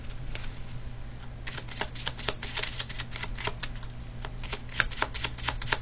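Tarot cards are shuffled and drawn in a close, quiet, rapid series of crisp riffling flicks and snaps, with steady low background hum beneath.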